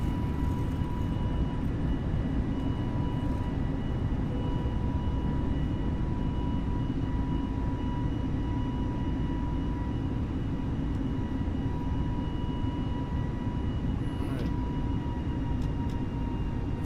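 Airbus A320neo engines climbing just after takeoff, a loud, steady broadband roar with a constant hum and fan whine from the cabin, unbroken for the whole stretch with no talk.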